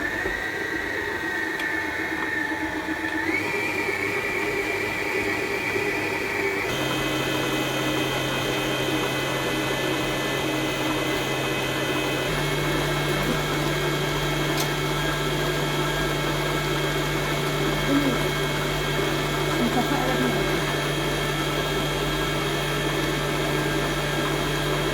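Electric dough kneader working kahk cookie dough, a steady loud mechanical whir and hum that shifts pitch a few times as the motor labors, continuous throughout with no voices.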